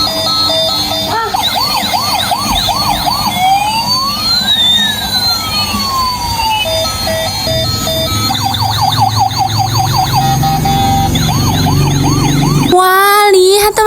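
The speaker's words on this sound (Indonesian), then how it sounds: "di sini ada mobil ambulan, warnanya putih. Wah, ada lampu sirenenya." Battery-powered white toy ambulance sounding a loud electronic siren, alternating wailing and rapid yelping patterns, up close and continuous, ending in a brief burst of harsher tones.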